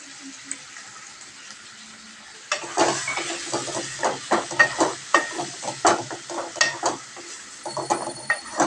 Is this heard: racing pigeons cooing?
no